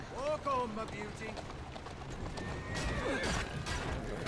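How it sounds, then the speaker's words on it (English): A horse-drawn carriage in Assassin's Creed Syndicate: a horse whinnies at the start, then hooves clip-clop at a gallop as the carriage rattles along, fairly loud and close. "this horse is not very good at getting around corners at all"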